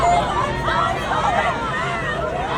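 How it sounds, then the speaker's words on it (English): A crowd of protesters waving Mexican flags on a street in LA, a loud, close babble of many overlapping voices with some shouts rising out of it, steady across the whole short stretch. "Look at the crowd."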